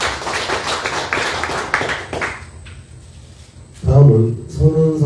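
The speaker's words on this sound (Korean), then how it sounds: "수고해주신 양이동 박사님께 다시 한번 큰 박수를 부탁드리겠습니다" An audience claps after a speaker's presentation at a historical seminar. The dense clapping fades after about two seconds, then a voice begins speaking.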